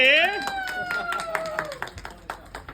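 Applause at an exhibition as it closes: a voice opens, then a scattering of hand claps builds into a loose, uneven patter from a small crowd nearby.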